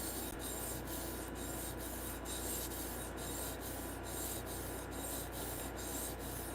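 Freehand sharpening of a knife on a stone, faint regular scraping strokes in an even rhythm, roughly a dozen passes, against a steady background hiss.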